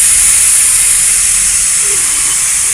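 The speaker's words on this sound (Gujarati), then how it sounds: "અમારા ઘરમાં કુકરમાંથી હવા કાઢવાની આવી સિસ્ટમ હોય છે." Steam blasts from a home pressure cooker's whistle in a loud, continuous close-up hiss that holds steady throughout.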